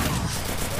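Rapid gunfire in the Free Fire battle royale game during a ranked match: a dense, loud burst of shots packed into under a second.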